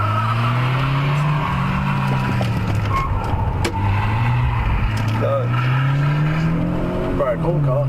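A car drives steadily down a road with a constant low engine drone and tyre rumble as another vehicle pulls around it, the engine pitch rising and falling, while people talk over it.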